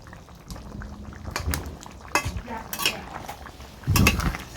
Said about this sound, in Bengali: এঁচড়টা ভালো করে ফুটে উঠুক তারপর এটা আমি নামিয়ে নেব